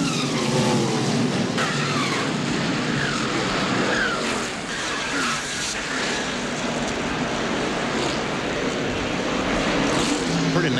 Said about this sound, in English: Pretty nasty looking crash.